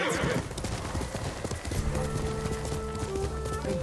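A horse's hooves clip-clop rapidly in the video game Ghost of Tsushima, followed by a whinny over music, close and loud.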